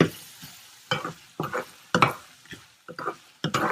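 Turmeric and cumin powder masala sautéed in oil, stirred in short scraping bursts about every half second over a faint background sizzle.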